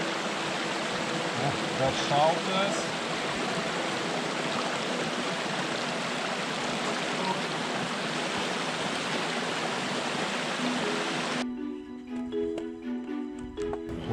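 Glacier meltwater stream rushing near the Sognefjellet road in Norway, a loud, steady, close wash of flowing water that cuts off near the end, with a brief voice speaking over it.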